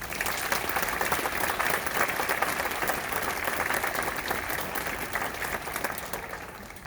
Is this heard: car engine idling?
no